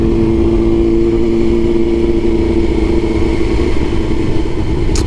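A 2004/2005 Suzuki GSX-R 600 motorcycle engine drones at idle, a low, even hum with a faint throb, close and continuous with no talking.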